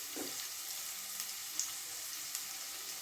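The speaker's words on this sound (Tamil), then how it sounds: "ஸோ எண்ணெயிலே பார்த்தீங்கன்னா கொஞ்ச நேரம் அப்படியே வதங்கட்டும்." Ingredients sautéing in oil for street-style fried rice, a faint, steady sizzle with a few light clicks of a utensil, no voices.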